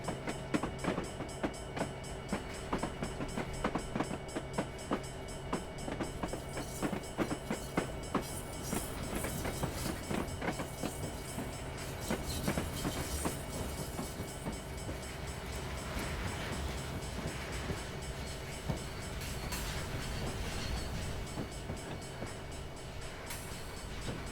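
A simulated Norfolk Southern freight train led by a GP60 rolls while braking into a siding, with a dense steady rumble of wheels, rhythmic clickety-clack and metallic squeal throughout, loud and continuous.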